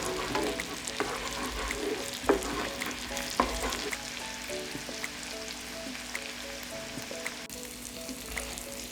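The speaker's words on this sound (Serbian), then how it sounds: "Dodat ću seckani beli luk i propržiti sve zajedno 30 sekundi." Chopped garlic frying with pork fillet in a pan, a steady close sizzle with occasional scraping stir clicks throughout.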